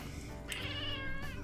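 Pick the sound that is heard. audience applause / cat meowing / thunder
cat meowing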